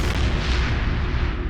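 Photon torpedoes fire from a starship in the space game Star Trek Online. The result is a loud, dense, booming burst that fills the short clip with heavy low rumble and hiss, with no talking.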